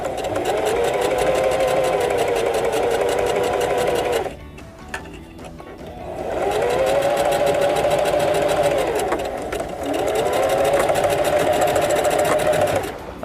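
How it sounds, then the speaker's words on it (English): A sewing machine stitches fabric in three loud, close runs of rapid mechanical whirring, separated by short pauses with quiet handling noise. "So it's about 3/8 of the way in, and we'll start our sew."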